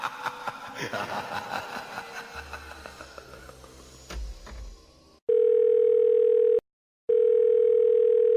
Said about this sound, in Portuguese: vamos ligar pro LH, ver que história ele tem pra contar pra gente